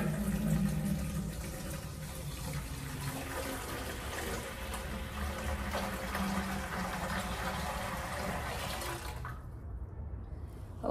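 Water pours steadily into the tank of a tower humidifier for large rooms, a continuous close gurgling splash that runs evenly for about nine seconds before cutting off abruptly, leaving near silence.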